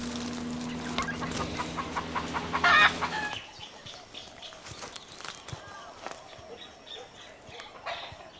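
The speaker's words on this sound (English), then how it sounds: "Chicken in the bush." A chicken clucks from inside a bush outdoors in Hawaii, several short close calls over steady background noise, with brief louder clucks near the middle and quieter rustling and ambient sound afterward.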